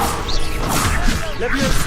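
A fire spell cast in Hogwarts Legacy bursts out with crashing, whooshing impacts and thuds, dense and close for the full two seconds, with voices mixed in.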